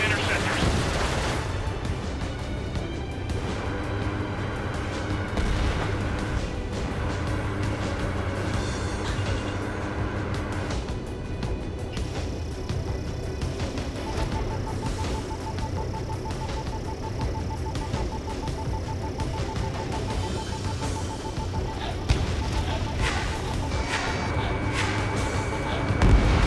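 Gunfire and explosions from an attack on radar vehicles in the Ace Combat 7 video game, a dense and continuous barrage with steady rumbling under a constant mix of game sounds and music tones.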